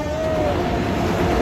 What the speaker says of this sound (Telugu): ట్రైన్ ఏదో వెళ్తుందా మామా